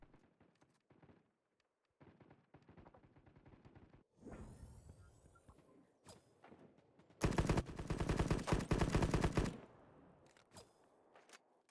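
Gunfire and headshots in the mobile shooter Battle Prime during a duos tournament match, with bursts of rapid automatic fire, one loud sustained volley in the middle, and scattered shots and footsteps in between.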